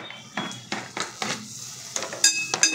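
Torn leftover chapati, curry leaves and tomato being stirred in a pan: a spatula scrapes and clinks against the metal in steady, evenly spaced strokes, close and clear, with no voices.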